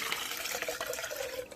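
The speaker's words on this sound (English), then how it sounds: "So the first thing I'm going to do is pour 8 ounces of water" Water pours steadily into a Bubba cup, a brief continuous splashing rush with no voices over it.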